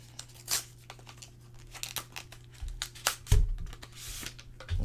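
Packaging of a Galaxy Watch 4 sports band being cut and torn open: scattered crinkles, snips and tearing rustles, close and fairly quiet, with no speech.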